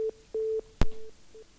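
Telephone line tone after a call is hung up: a steady pulsed beep repeating in short bursts, interrupted once by a sharp click, then fading beeps.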